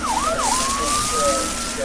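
A fire engine siren wails loud and close, sweeping up and down twice before holding a long rising tone over steady road rumble.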